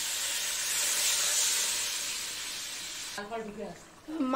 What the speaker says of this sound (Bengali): মশলাটা ভাজা হয়ে গেছে, এখন জল দিয়ে দেবো